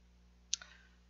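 One crisp, faint mouse click on a quiet computer, followed by a softer second tick just after, with low steady hum underneath.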